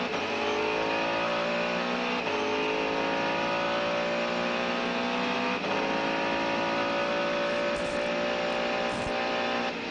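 A Mercedes-Benz CLR race car at Le Mans in 1999 screams down the pit straight, its engine holding a loud, sustained high-pitched wail that climbs through gear changes at a steady full-throttle pace.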